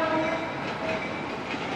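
A train rumbles past close by in Fort Lauderdale, with a steady loud roar of rolling cars and wheel noise filling the whole moment.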